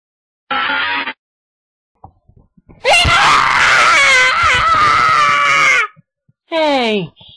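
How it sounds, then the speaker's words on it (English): Realistic toy Jigglypuff doll screaming: a short shriek, then a long, loud, wavering wail of several seconds, followed after a pause by a brief falling cry, all close and dominant with silence between bursts. "That was my realistic Jigglypuff doll with actual screaming and realistic blood"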